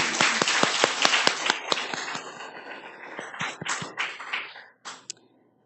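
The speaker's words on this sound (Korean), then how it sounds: "우리 하나님 앞에 더 큰 영광의 박수 올려드리겠습니다" Church congregation clapping at a Sunday evening worship service, a dense burst of applause that thins into scattered, separate claps and fades out near the end.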